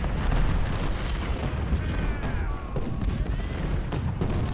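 Artillery and musket fire from the Ultimate General: Civil War battlefield, heard as a continuous rumbling roar of distant cannon booms and crackling volleys without pause.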